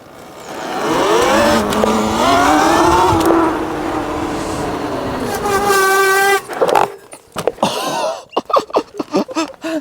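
Sur-Ron electric dirt bike with Volar Sport brakes under a hard brake test, a rising whine and drawn-out tyre squeal near the mic, breaking into short scrubbing skids and chatter toward the end.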